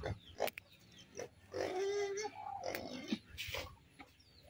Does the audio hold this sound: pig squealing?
yes